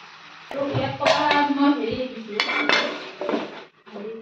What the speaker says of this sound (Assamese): ঢাকনখন মাৰি দিছোঁ